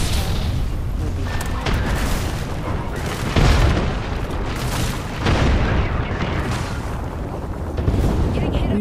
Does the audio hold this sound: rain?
no